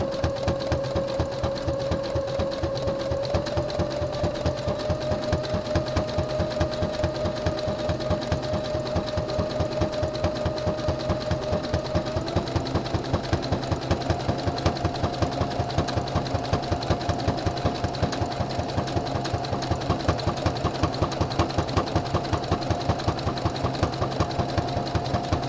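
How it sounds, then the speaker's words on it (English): A sewing machine top stitches a jock pouch onto the body of a sportbrief, running in one steady, continuous stretch with a rapid needle rhythm and a mechanical hum that rises slightly in pitch partway through. "when you're doing the top stitching on the pouch here"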